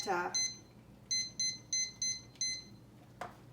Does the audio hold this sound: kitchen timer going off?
yes